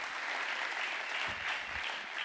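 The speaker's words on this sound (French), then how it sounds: "On les applaudit." Steady applause from an audience at a DevOps keynote fills the hall as five people are called on stage, an even, continuous patter of many hands with a few faint low thumps.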